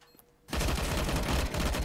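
Gunfire in Counter-Strike: Global Offensive breaks a near-silent moment with a sudden, loud, sustained burst of rapid automatic shots that rattles on for over a second.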